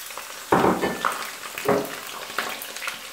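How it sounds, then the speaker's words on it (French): Onions dropped into heated oil for nsaka madesu crackle and hiss up close, in bursts of sizzling with stirring clatter between them. "l'huile est chauffée. Je vais mettre les oignons."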